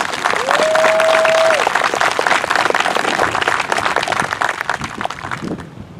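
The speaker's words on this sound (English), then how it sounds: "let's give all members of the class of 2020 a round of applause" Sustained applause and crowd noise from a graduation ceremony audience honoring the class of 2020, loud and dense throughout, with a brief tonal whistle or tone early on.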